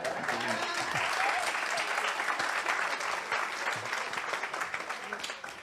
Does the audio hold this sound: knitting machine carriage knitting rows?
no